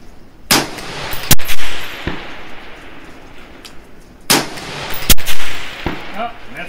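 Rifle gunshots aimed at a 100 yard target outdoors, two pairs of sharp loud cracks a few seconds apart, each followed by a ringing echo or distant impact, with soft outdoor background between.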